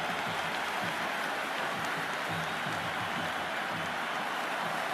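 A dense, steady roar of a cricket stadium crowd cheering and applauding during an RCB vs GT qualifier match, a constant wash of noise with no breaks.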